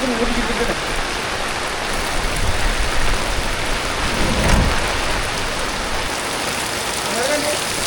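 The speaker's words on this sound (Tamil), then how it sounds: "எப்படிண்ணா மழை" Heavy rain pours steadily and loudly on nearby surfaces while thunder rumbles low underneath, the dense downpour filling the whole stretch.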